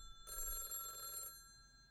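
A telephone bell rings once in a single brief, faint trill, alone with no voices.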